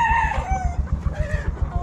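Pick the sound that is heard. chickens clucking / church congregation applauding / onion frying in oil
chickens clucking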